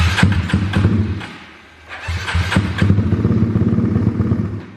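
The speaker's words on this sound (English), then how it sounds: "I'll just throttle it to get it started here." A 2020 Honda Grom motorcycle engine fitted with a FuelTech FT450, cold and being coaxed to start with throttle, sputtering and cranking in uneven bursts before catching into a rough, close idle.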